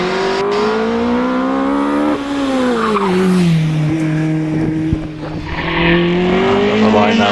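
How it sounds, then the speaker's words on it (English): A Caterham 7 race car climbs through the S-bends at the Prescott hillclimb, its engine note rising and falling through gear changes with brief tire squeal, loud and fairly near. "into the S's comes Richard Price in his Caterham 7"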